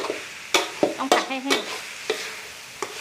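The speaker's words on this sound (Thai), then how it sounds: "ผัดให้มันแห้งก่อน" Minced pork stir-fried in a pan until dry for Thai khua kling, with a spatula scraping and tossing in sharp, irregular strokes over a steady close sizzle.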